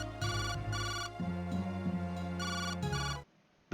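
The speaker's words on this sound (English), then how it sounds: "I dialed the number again." A phone rings after a number is dialed in the detective video game Jake Hunter, with repeated electronic ring bursts over a looping synth tone, then cutting to near silence.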